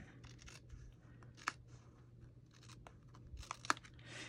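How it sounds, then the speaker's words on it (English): Small scissors trimming a paper journal tag, a few faint, quick snips and crinkles in a quiet room. "with my scissors, I can just trim that"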